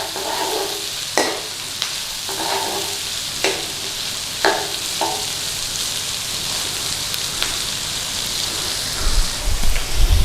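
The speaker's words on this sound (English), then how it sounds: "So get our onion in there. Give it a little bit of stir through." Chopped onion sizzles steadily in hot oil in a non-stick wok while a spoon stirs it, giving a constant crackling hiss broken by light scraping knocks, with no talking.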